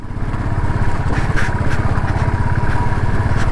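A Royal Enfield motorcycle engine thumps in a loud, fast, even pulse on an off-road ride, close and steady with no break.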